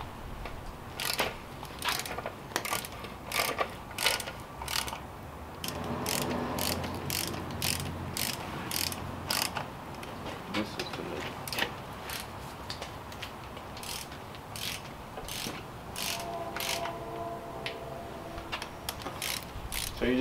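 A ratchet clicks in quick repeated bursts, close and clear, as it runs down the oil pan bolts on a BMW N54 engine, with short pauses between the runs.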